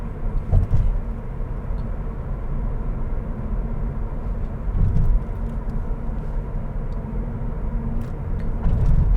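A Toyota Auris Touring Sports hybrid cruising on electric power in town, with a low steady road rumble and tyre noise inside the cabin, a few soft bumps, no engine note, and no voices.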